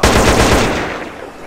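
Rapid M4 assault rifle fire from the game GTA San Andreas with a modded HD weapons pack, a loud burst of fast repeated shots at close range that trails off into a fading echo.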